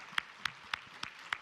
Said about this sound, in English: Let's give Ken Muscat a big round of applause.